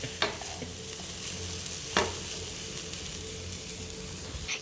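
Lentils roasting in a pan for a Kerala-style dish give a steady low sizzle, with two sharp stirring scrapes standing out near the start and about two seconds later.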